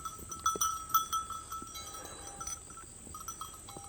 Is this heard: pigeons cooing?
no